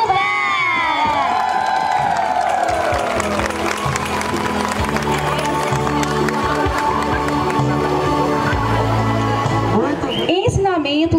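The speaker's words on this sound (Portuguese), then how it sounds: "Uma salva de palmas para o distrito." A crowd at a civic event in Condeúba claps and cheers loudly and continuously, with whoops and children's shouts mixed in, while music or a voice runs underneath and briefly rises above the noise.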